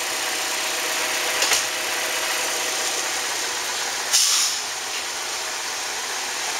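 A 2008 Chevy Cobalt with a 2.2 Ecotec four-cylinder and automatic transmission idles steadily at a salvage yard, a constant close engine hum with two short bursts of louder hiss.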